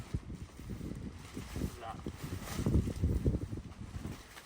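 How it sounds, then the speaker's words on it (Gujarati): Wind gusts outdoors on a cold day, buffeting the microphone in a continuous rough roar that swells and fades, with faint muffled voices underneath. "પવન છે ને આજ એટલે."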